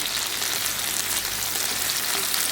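Vegetables fry in oil for a dosa and idli chutney, a continuous, close, dense sizzle holding at an even level throughout with no voices.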